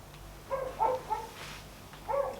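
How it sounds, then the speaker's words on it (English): A dog barks a few times in the background at home, several soft muffled woofs in a loose cluster and then one more, distant and fairly faint, with no talk over them. "I can hear a doggy in the background."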